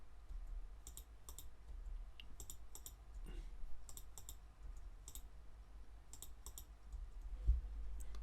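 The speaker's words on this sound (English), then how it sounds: "just type in the value on the keyboard like this." Computer keyboard typing while entering values for robot joints in robotics software, sparse clusters of light key clicks in small bursts over a steady low hum, close and fairly quiet.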